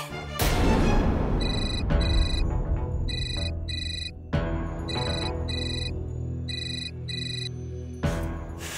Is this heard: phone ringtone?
yes